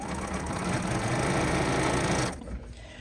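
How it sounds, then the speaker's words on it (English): A sewing machine runs steadily stitching a scrappy flying geese quilt block, a close continuous mechanical whir that stops after a couple of seconds, leaving quieter handling sounds. "it can't be very good for your machine to be stitching over needles"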